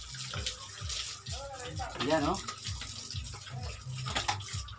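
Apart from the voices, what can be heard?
water poured on pigs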